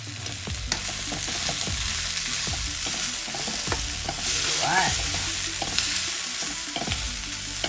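Prawns and capsicum stir-fried for hot and spicy prawns, a steady loud sizzle running throughout, broken by repeated stirring scrapes and clatters of a spoon against the pan.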